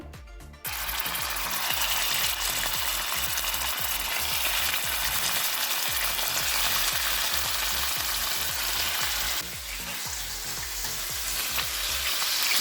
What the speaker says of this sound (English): So now we're going to saute this in hot oil.